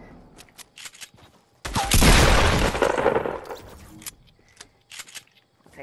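A loud burst of rapid gunfire in a shooter video game, dense and sustained for about two seconds, surrounded by quieter sporadic shots and clicks.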